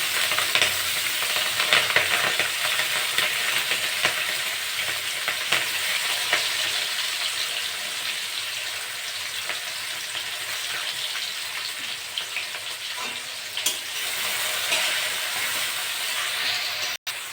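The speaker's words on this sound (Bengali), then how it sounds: "পেঁয়াজটা একটু ভাজা ভাজা করে দেবো" Onions and green chillies fry in a pan alongside cinnamon and bay leaves, a continuous bright sizzle with occasional stirring scrapes and crackles, steady and close for the whole stretch with no talking.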